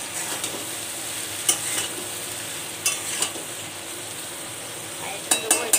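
Vegetables and onions sauté in a pan for fish curry, giving a steady soft sizzle with scattered stirring scrapes and a few sharp utensil clinks against the pan.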